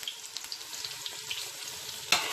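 Onions fry in hot oil in a cooking pot for red rice, giving a steady close crackling sizzle with light popping, then a sharp metallic clink near the end.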